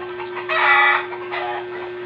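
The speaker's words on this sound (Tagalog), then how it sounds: "Maingay yung mga manok ng tatang." A hen's drawn-out cluck rises and falls close by, followed by a shorter second call, over a steady low electrical hum.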